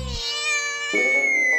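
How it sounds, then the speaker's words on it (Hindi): A cat gives a long, drawn-out meow that rises and wavers, close and clear, with a second yowl following. "कुछ नहीं, बिल्ली की आवाज थी, वही होगी"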